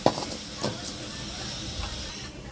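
Amaranth leaves drop into hot tempering oil with turmeric and give a soft, steady sizzling hiss, with a brief louder crackle at the start. A voice talks faintly over the frying.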